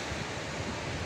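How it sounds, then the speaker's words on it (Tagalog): Small, gentle waves on a calm sea wash in with a steady, soft, even hiss, with no voices heard. "So medyo mahina pa ang wave."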